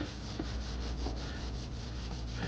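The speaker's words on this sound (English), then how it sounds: "I usually go back, sand it again to get it super smooth" Driftwood being sanded smooth, a continuous close abrasive rubbing with rhythmic back-and-forth strokes, loud and steady with no voices.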